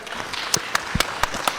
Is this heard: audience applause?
yes